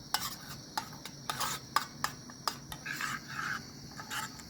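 A spoon stirs Turkish coffee with sweetener in a small pot, making a run of quick, close scraping and rubbing strokes in an uneven rhythm, with no voices over it.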